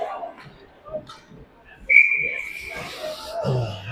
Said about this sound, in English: And that's a whistle for an icing call